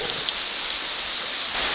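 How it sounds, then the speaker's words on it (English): Steady warm rain falls in the Ecuadorian rainforest of the eastern Andes, a continuous close hiss of drops on foliage with no other sounds and no talking. "It's a beautiful, warm, soothing kind of rain, though."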